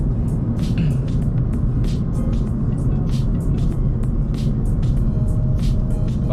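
Heard from the cabin of a Mercedes-Benz A250 Sport AMG turbocharged car on a test drive: a steady, loud low-pitched engine and road drone with faint ticks and rattles on top and no talk.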